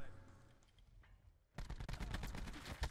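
Rapid automatic gunfire in the video game Black Ops 4, a dense burst of shots beginning suddenly after a quiet stretch with faint background effects, with a voice speaking around it.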